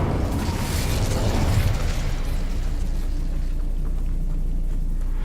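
A Confringo spell blast goes off in Hogwarts Legacy: one loud, close explosion with a deep booming burst that rolls into a rumbling tail and fades away.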